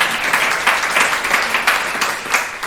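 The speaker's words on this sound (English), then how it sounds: "Give yourselves a round of applause." Applause from an audience at a meet and greet fills the whole stretch, a steady wash of many hands with small swells and no voices over it.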